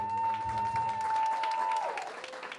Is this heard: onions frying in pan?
no